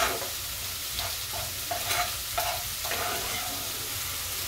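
Spice paste frying and being stirred in a pan, with a steady close sizzle broken by several scraping stir strokes, heard alone without talk.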